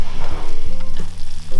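A cheese and bacon omelette sizzles and bubbles loudly and steadily under a hot grill, with close crackling fat and a constant frying hiss.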